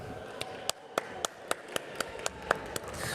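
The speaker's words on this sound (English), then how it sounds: "Polite claps and smiles all around." Polite applause at the H2GP World Finals race in Switzerland, a sparse, evenly spaced series of about a dozen sharp individual claps, fairly close and moderate in volume, building slightly toward the end.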